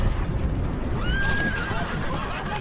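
A horse neighs in a long, rising and falling whinny, loud and close over a steady bed of background noise, with faint hoof clip-clop in a historical film scene.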